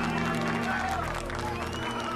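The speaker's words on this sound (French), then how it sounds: "applaudissez-le bien fort." An audience applauds Rogelio Rivas with dense, sustained clapping that stays loud and even throughout, over a steady tonal background.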